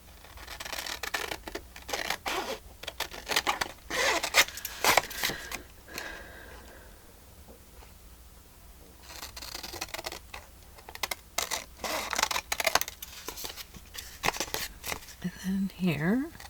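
Paper journal ephemera being trimmed with scissors or a cutter, bursts of crisp snipping and paper rustle in repeated clusters with a quieter pause midway, close up, with a voice talking intermittently.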